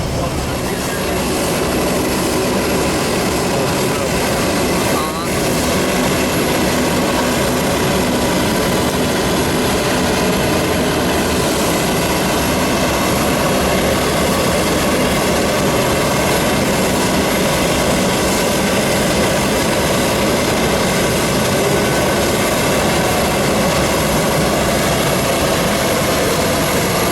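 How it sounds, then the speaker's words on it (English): Aircraft engines run loud and steady on the apron at Toronto Pearson, a dense continuous roar with a faint voice underneath and no break for the full length. "they're busy marshalling the aircraft in"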